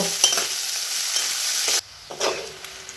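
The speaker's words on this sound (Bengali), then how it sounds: "পেঁয়াজটাকে এবার লাল করে ফ্রাই করে নিতে হবে বা নেব" Julienne-cut onions frying in a pan for a potato and egg curry, a steady bright sizzle with occasional stirring scrapes, briefly dropping quieter near the end before resuming.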